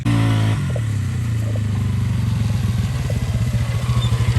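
A Polaris Scrambler 500 automatic four-stroke ATV quad engine revs up close and loud, settling into a steady chugging idle with a rough, throbbing rhythm.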